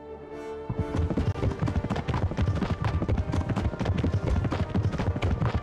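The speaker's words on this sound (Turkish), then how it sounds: "Atlar kendi kendine gidiyor, kimse yok." Horse hooves clip-clop steadily in the medieval video game Kingdom Come Deliverance, a dense, loud run of hoofbeats starting after a brief quieter moment and continuing without pause.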